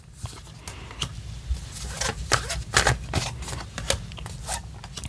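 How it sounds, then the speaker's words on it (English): Tarot cards being shuffled by hand, a dense run of quick riffling snaps and soft slaps that swell and fade over several seconds against a low background hum, with no talking. "So one more shuffle."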